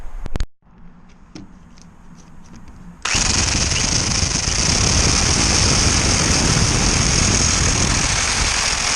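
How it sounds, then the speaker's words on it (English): After a few quiet clicks, a loud motor suddenly whirs into life and runs steadily at full power until the end, like a drill running. "Let's give it a drill and hope for the best."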